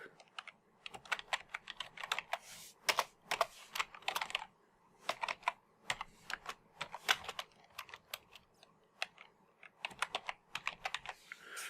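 Rapid, uneven clatter of computer keyboard typing, close and fairly quiet, in bursts with brief pauses, no voices.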